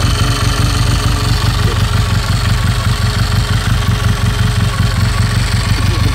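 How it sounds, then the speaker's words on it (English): A 1959 Triumph Speed Twin 500cc motorcycle engine idles close by, a quiet, even, steady rhythmic thrum with light mechanical clatter, heard alone for several seconds. "Quiet sounding engine, isn't it?"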